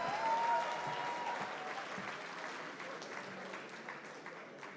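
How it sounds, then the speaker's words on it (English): Audience at a youth awards ceremony claps in a broad, roomy round that starts strong and slowly tapers, heard from some distance with a brief tone near the start. "Round of applause, ladies and gentlemen."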